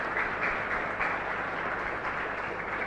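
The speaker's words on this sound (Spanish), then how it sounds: "Fuerte aplauso entonces para el Señor." A congregation at Mass in a chapel claps together in a steady, fairly quiet round of applause that lasts the whole moment.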